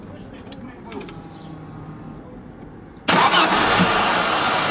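An Audi B90 fitted with a Solex 73 carburetor starts up abruptly, its engine bursting into a loud, steady broadband roar after a quieter stretch, then holding an even idle-like running note close by.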